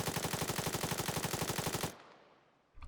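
A bipod-mounted rifle in the Arma 3 video game fires a rapid automatic burst of about twenty even shots at a steady rhythm, loud and close, then cuts off, followed by a short trailing thump.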